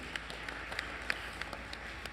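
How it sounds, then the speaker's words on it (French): An audience at a real estate conference applauds, a dense, even patter of many hands clapping, fairly faint and distant, holding steady for about two seconds. "Applaudissements."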